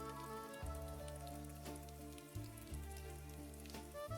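Steady rain patters softly on a surface, a faint continuous drizzle beneath a sustained low musical drone.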